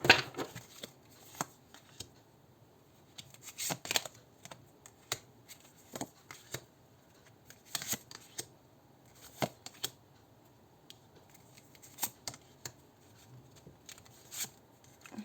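Crisp, rapid riffling bursts of cards being shuffled, repeated every second or two with quiet handling noises between, close and fairly soft.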